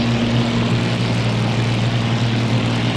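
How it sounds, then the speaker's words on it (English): Steady droning roar of WWII propeller aircraft engines from the Battle of Britain game Combat Wings, a continuous close hum with a low tonal buzz, loud and unbroken, no voices. "Enemy planes are en route."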